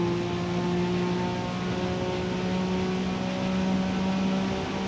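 A turbocharged JDM car fitted with a turbo kit, race springs and sport brakes in Forza Motorsport. The engine holds a steady high-pitched drone with a whirring tone, loud and unbroken throughout.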